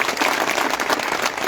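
A dense crowd at a political rally in Jhunjhunu breaks into loud, sustained applause, a steady wash of many hands clapping at once with no voices above it.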